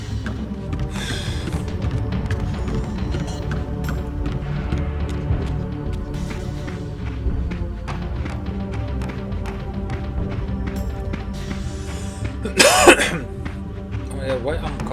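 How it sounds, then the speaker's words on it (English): A person coughs and clears their throat, with one sharp, loud throat-clearing burst near the end, over a steady background of video game sounds. "why I'm coughing?"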